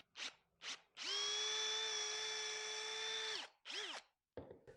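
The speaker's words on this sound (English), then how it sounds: "So I'm going to drill my 3/8 hole." A power drill boring a 3/8-inch hole in wood: two short trigger bursts, then a sustained high whine of about two and a half seconds, followed by another brief rev and a clunk.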